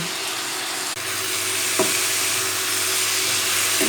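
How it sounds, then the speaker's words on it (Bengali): Broccoli sabji frying in a pan with a little sugar and salt, a steady close hiss of sizzling oil with a faint tap or scrape of a utensil partway through. "ভালোভাবে ভেজে নিচ্ছি"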